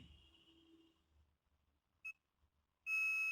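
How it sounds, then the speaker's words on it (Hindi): A digital multimeter beeps while testing a fuse, giving a short tonal chirp near the middle followed by a loud, sustained steady beep at the end, with faint background hum before it. "तो कोई बीप की आवाज जो है वो कर रहा है मल्टीमीटर"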